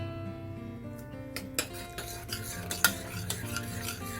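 A spoon stirs spinach stir-fry into a pot of dal curry, giving soft wet stirring with clinks and knocks of metal against the pot, close and moderately loud, with no voices.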